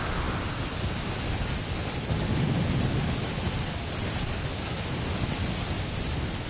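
Heavy rain in a Death Stranding thunderstorm roars as a dense, steady wash, with a low rumble of thunder swelling midway and continuing under the downpour.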